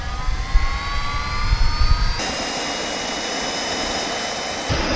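Two turbojet engines mounted on a DIY bicycle ignite on an airport runway: a rising spool-up whine gives way abruptly to a loud, steady, high-pitched jet roar that holds, close and overpowering.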